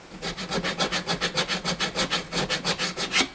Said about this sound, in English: these files are fast, man, super fast. They're diamond grit.